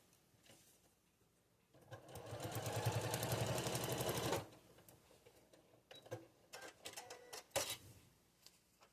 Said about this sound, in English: Now I'm going to stitch this.